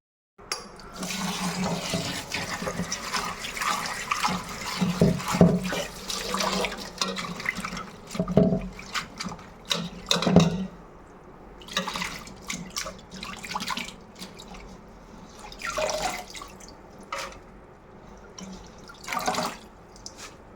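Ponnankanni keerai greens are washed by hand under running tap water in a home kitchen, with quiet trickling and irregular splashes and drips rising and falling throughout, no talking.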